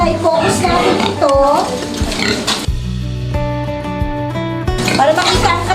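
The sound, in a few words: pigs grunting on a pig farm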